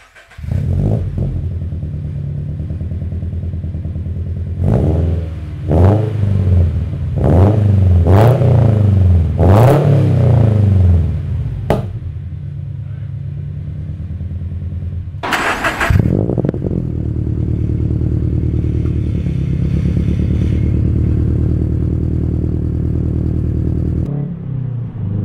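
Subaru BRZ/FRS fitted with an ISR catback exhaust, close and loud, idling then blipped through a series of sharp rising and falling revs before settling into a steady, raspy idle with one more rev near the end.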